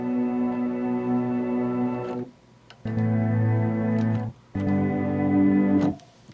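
Three sustained synthesized chords from the Logic Pro X Sampler instrument, each lasting one and a half to two seconds, rich and harmonic, separated by brief gaps. Small clicks and pops mark the note edges. No talk is heard.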